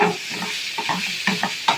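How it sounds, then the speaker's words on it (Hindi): Marinated chicken for shawarma frying in hot oil, a soft steady sizzle with periodic scraping stirs from a utensil, close and unaccompanied by speech. "अब हम डालेंगे इस पर चिकन जो हमने मैरिनेट कर ली थी, वो डालेंगे।"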